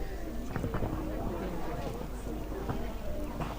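Horse hooves clip-clopping on arena footing during a show jumping class at an equestrian show, a steady rhythmic gait heard faintly beneath continuous commentary and crowd ambience.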